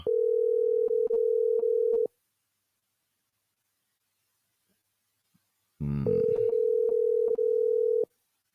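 An outgoing telephone call ringing on the line: two long steady ringback tones, each about two seconds with slight pulsing, separated by a silent gap, clear and close with no talk.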